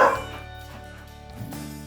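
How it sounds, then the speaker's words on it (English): A dog barks a few times close by, short sharp yaps at the start and again near the end, with no talking over it. "I think he knows when I'm trying to shoot a video because he just starts barking."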